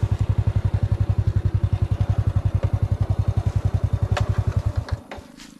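A motorcycle engine putters rhythmically nearby, a fast steady chugging that suddenly drops away near the end.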